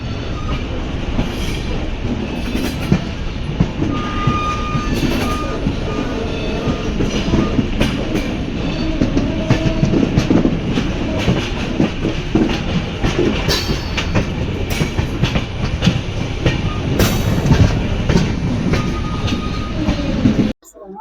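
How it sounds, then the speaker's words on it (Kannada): Loud, continuous rumble of a moving passenger train leaving Yelahanka Junction toward Hyderabad, with rhythmic clattering of wheels over rail joints and occasional metallic squeals throughout. "ನಮ್ಮ ಟ್ರೈನು ಇವಾಗ ಯಲಹಂಕ ಜಂಕ್ಷನ್ ಬಿಟ್ಟು ಹೈದರಾಬಾದ್ ಕಡೆಗೆ ಸಾಗುತ್ತಿದೆ"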